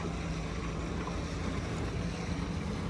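A steady, dense roar of a Boston Whaler 250 Dauntless boat under way with a V10 400 outboard, wind rushing over the microphone throughout with no voices.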